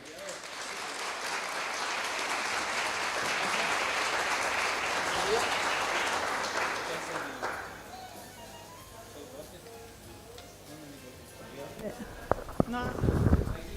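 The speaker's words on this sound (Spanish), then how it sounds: "También podemos recibirla con un aplauso." Audience applause at a conference opening ceremony, a broad dense patter filling the first seven seconds and then fading into quieter room noise, with a few sharp knocks near the end.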